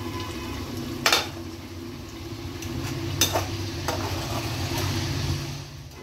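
Masala fries with spring onion, tomato and salt in a pan, a low steady sizzle with a few sharp clinks and scrapes of a utensil against the metal, close and moderately quiet.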